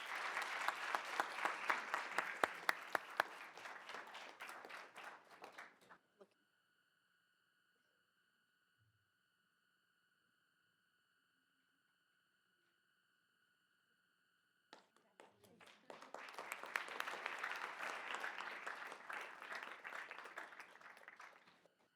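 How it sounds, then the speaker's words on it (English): Applause at a school board meeting, a room of people clapping steadily for several seconds, then a long quiet gap with a faint electronic tone, and a second round of clapping rising again near the end. "So can we give them another round of applause for all they do?"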